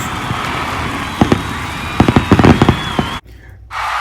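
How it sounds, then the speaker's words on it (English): Fireworks at a Colorado Buffaloes football celebration after a touchdown: a run of sharp cracks and pops over a steady noisy backdrop, bunching into a quick burst before the sound cuts out abruptly. "Fireworks, please."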